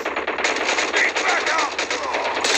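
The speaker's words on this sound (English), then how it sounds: "This thing is a pistol." Rapid pistol gunfire in the mobile shooter game Call of Duty Mobile, loud and near, in a dense, steady stream of shots lasting a few seconds with faint voices underneath.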